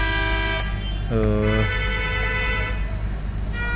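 Congested market road in Narayan, where a few short car horn toots and a longer honk sound over a rumbling traffic jam, heard from inside a Honda Vezel on a trip through northern Pakistan.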